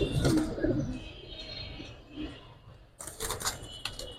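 Naphta pigeons give soft, close cooing and rustling for a few seconds, with a brief gap before a burst of fluttering noise.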